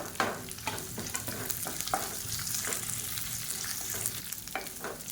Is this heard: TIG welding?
no